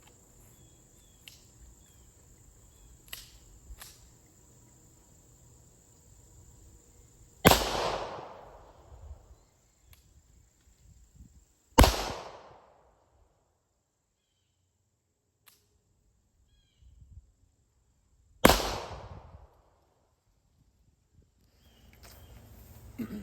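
A Springfield 1911 DS Prodigy pistol fires at an outdoor range, three sharp loud shots spaced several seconds apart, each with a short decaying echo, over faint background noise and insect-like chirps.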